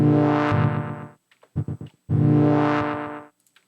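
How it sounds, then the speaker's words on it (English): AudioThing Outer Space echo plugin set to wet signal only, giving two bursts of distorted, heavily processed tone with short stuttering repeats between them and faint echo tails trailing off. "Everything you're hearing is part of the echo"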